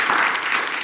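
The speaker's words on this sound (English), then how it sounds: "round of applause for that" Audience applause at a diversity summit, a steady wash of many hands clapping at once, sustained and fairly loud for under a second.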